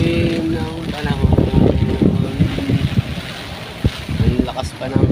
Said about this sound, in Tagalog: Ang lakas pa ng hangin. Lakas ng hangin.